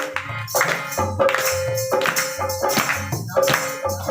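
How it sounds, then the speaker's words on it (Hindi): At a Hindu devotional satsang, a gathering claps in steady rhythm along with singing of a Ram bhajan, with loud, even beats under the melody and voices. "सबके तालियां सुर में।"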